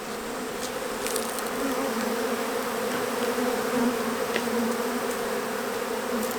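A crowd of honey bees drones around an open hive on a January inspection, a close, even, sustained buzz with slight swells in pitch and a few faint clicks, and no voices.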